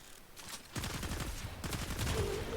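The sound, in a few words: poison quills pistol firing in Warframe video game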